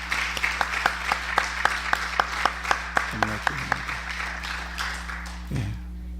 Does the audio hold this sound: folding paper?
no